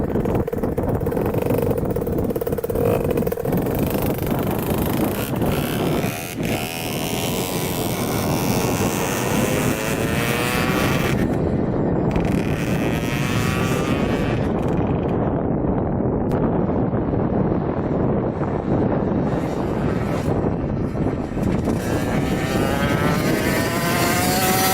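A racing mini two-stroke dirt bike makes a quick flyby along a road, its buzzing engine loud and sustained throughout, rising and shifting in pitch as it passes close by with no talk over it.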